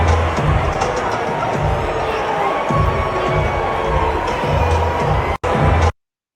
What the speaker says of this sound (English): It's not that everybody's booing, but barely anybody's cheering, and then you do hear the audible boos